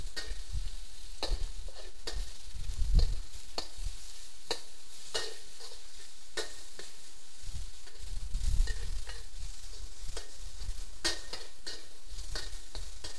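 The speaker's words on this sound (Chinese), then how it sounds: "我们锅中先加两大匙沙拉油，爆香蒜碎， 等蒜头炒香之后放入肉丝" Shredded pork and minced garlic stir-fried in salad oil in a wok: a steady sizzle with repeated scraping and clacking strokes of the spatula, close and continuous without talk.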